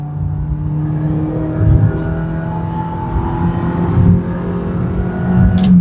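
A new car's engine drones steadily as it accelerates along a road on delivery day, heard up close with gentle swells of revving and a continuous low hum throughout.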